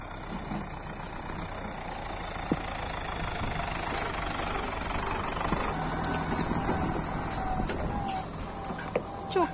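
A tractor loaded with pine firewood idles nearby with a steady, low rumbling drone, with occasional faint clicks and knocks over the constant engine noise.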